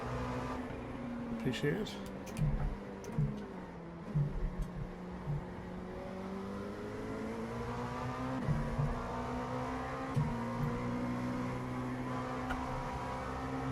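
An LMP2 prototype race car at Watkins Glen in a racing game, its engine droning and rising in pitch through several gear changes as it accelerates, with a voice speaking briefly over it.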